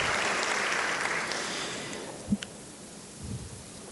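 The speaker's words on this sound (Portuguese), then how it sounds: "Uma salva de palmas ao nosso deputado estadual." Applause from a lecture audience greeting a state deputy at a legal talk on updating the civil code: a dense patter of clapping that thins out and fades to near quiet, with a couple of soft knocks afterward.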